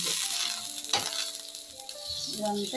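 Millet dosa batter sizzles steadily on a hot pan, a close, continuous frying hiss with a faint clink of utensils midway.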